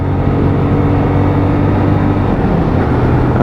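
Lexmoto LXS 125 motorcycle engine pulling in fifth gear, a steady loud drone with a sustained low hum and slight rise in pitch, heard alone without talk.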